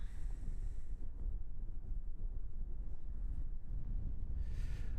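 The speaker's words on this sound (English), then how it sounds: "Oh, that wind's picking up." Steady, loud wind buffeting a microphone outdoors at Christchurch Airport, a continuous low roar and rumble with gusty fluctuations and a brief hiss near the end, no talking.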